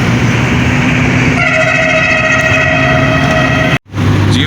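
Loud sustained horn blaring from trucks on a busy road, a steady tonal honk starting partway in over heavy traffic roar, cutting off abruptly near the end before the traffic noise resumes.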